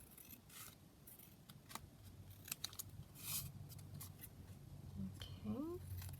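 Scissors snip through sticker sheets for a junk journal, with several short, faint crisp cuts at close range over low room hum, plus a brief voice.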